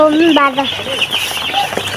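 Chicks chirping close by in short, high, rising and falling peeps, several calls overlapping, with a person talking over them.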